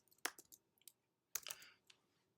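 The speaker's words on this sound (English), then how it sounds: "So I'm typing the title" Faint, sparse typing on a computer keyboard, two short clusters of crisp key clicks separated by a pause, close and alone.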